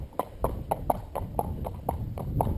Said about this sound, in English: she's doing now the Western horses jog